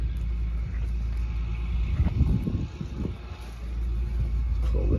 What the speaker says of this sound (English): let the tractor warm up